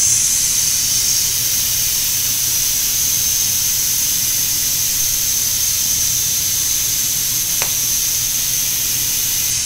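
SEM 1K sprayable seam sealer goes through an SEM applicator spray gun in a small test pattern, giving a continuous close, loud hiss of air and material that holds steady throughout, with one brief faint tick near the end.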